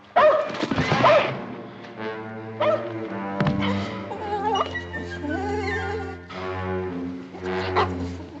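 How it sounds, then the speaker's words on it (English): A young dog yelps and whines in several drawn-out, wavering cries with a few sharp bumps, close and fairly loud. "Come on, puppy. Come on, Shorty. Consarn you, pup"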